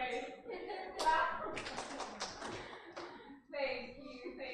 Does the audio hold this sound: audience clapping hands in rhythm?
yes